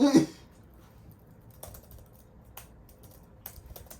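Computer keyboard typing, sparse clicks and taps spaced through a quiet room after a brief voice at the start.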